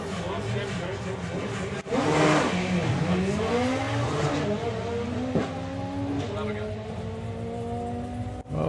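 A Ford Sierra drag racing car makes a run down the strip at a doorslammers event, its engine roaring and rising in pitch through the gears as it passes, with commentary talking over it.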